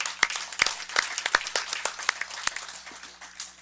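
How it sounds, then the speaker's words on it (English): Scattered applause at a board of trustees meeting: a modest group claps with distinct individual slaps, loud at first and thinning out toward the end. "Big round of applause."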